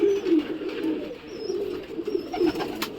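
Soft, low pigeon cooing from squabs in a net enclosure rolls on continuously, several birds murmuring close by with faint chirps above.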